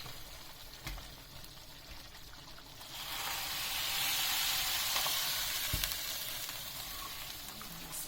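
Onion fries in a hot pan for a madımalak dish, a steady close sizzle that swells louder partway through, with occasional soft stirring clicks and no talking.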